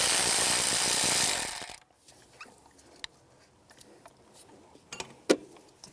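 On a 2006-2011 Cadillac DTS, a loud rushing burst gives way to a ratchet working the EGR valve studs loose, heard as sparse, faint clicks and ticks at close range.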